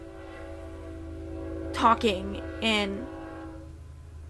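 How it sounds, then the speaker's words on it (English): A passing train sounds its horn in a few loud, sustained blasts over a steady low rumble, while a person keeps talking nearby. "excuse the train"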